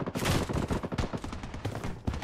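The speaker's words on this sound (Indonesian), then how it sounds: "Ada nembak saya dari belakang." Rapid bursts of automatic gunfire from the shooter game Blood Strike, loud and dense, crackling continuously through the clip with no talk over it.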